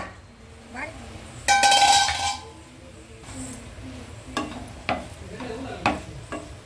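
Wet dates sheera simmers in a pan after milk is poured in, with soft sizzling under a spoon that scrapes and clinks against the metal, one bright ringing clink standing out. A voice talks over the cooking.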